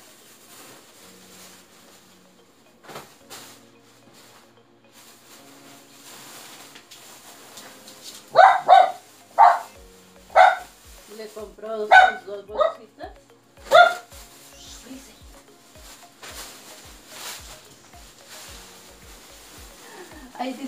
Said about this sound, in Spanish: disculpen el ladrido de mi perrita